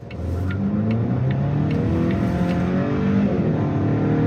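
A 2022 Volvo XC60 luxury SUV accelerates hard with the pedal floored, its engine droning loudly and steadily from inside the cabin as revs climb through the gears, with no talking.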